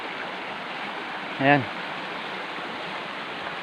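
A shrunken forest river stream, low from hot dry weather, flows with a steady broadband rush close by, while someone speaks one brief word in the middle.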